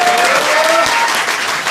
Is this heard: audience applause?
yes